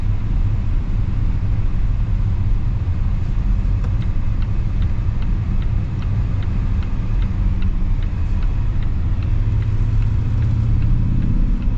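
Steady low road rumble and tire noise fill the cabin of a 2025 Volvo XC90 Ultra SUV cruising smoothly, constant and even throughout with no voices.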